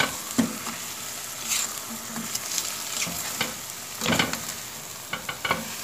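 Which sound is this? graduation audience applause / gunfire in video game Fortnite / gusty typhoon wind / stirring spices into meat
stirring spices into meat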